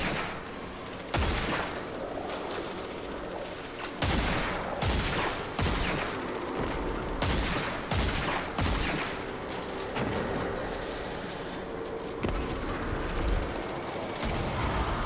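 Dead Man's Tale rifle firing in a video game: sharp, loud shots in rapid bursts and steady volleys, repeating across the whole stretch with brief gaps between strings of fire.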